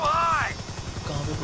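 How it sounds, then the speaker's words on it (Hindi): Police helicopters in the video game GTA V produce a fast, rhythmic rotor chop with a whining engine tone, heard under a voice talking over the gameplay. "पीछे दो दो हेलीकॉप्टर है,"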